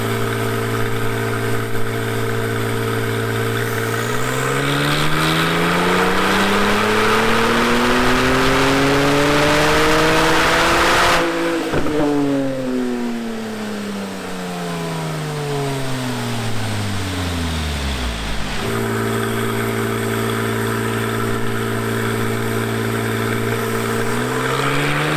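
A Porsche 911 Turbo S replica built toward GT2 RS spec runs on a dyno, its engine climbing in a long, loud sweep to high revs, cutting sharply, then dropping back to a steady idle.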